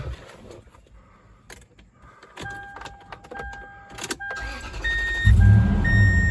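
A Toyota 4Runner is started, with keys jangling and clicks before the engine turns over. It settles into a steady low idle close by, with brief electronic beeps over it.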